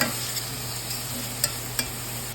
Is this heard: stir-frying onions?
yes